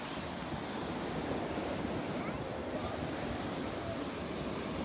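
Sea waves wash onto a beach in a steady, dense roar of surf that stays loud and continuous throughout, with no clear breaks between waves.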